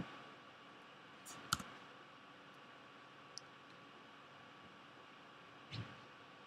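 A computer mouse clicks a few times, sparse and faint, against a steady background hiss, with no talking.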